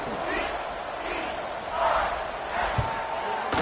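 Football stadium crowd at TCU versus Oregon State roars and cheers in a broad, sustained wash, swelling slightly near the middle and end of the brief stretch.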